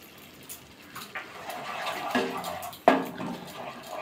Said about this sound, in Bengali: বাটি দিয়ে অল্প জল দিয়ে দিচ্ছি।